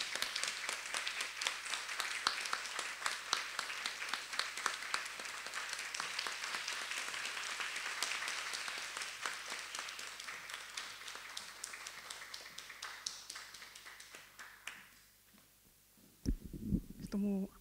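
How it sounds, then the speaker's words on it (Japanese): An audience at a Waseda University lecture event on hot-spring entertainers gives sustained applause to welcome the performer Tachibana Daigoro, many hands clapping steadily for about fifteen seconds before it dies away and voices begin speaking. "橘大五郎さんです。拍手でお迎えください。"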